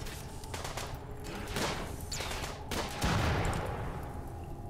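Bursts of gunfire and explosive blasts from an inferno cannon during a RimWorld battle come in several loud, sharp volleys over a steady crackling background, with no one talking.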